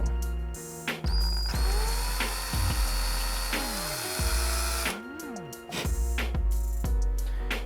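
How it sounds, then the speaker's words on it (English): A drill bores holes through the wall of a wet clay bonsai pot, giving several short whining bursts with brief pauses between them, close and fairly loud. "The clay is still pretty wet, so these holes are very easy to drill."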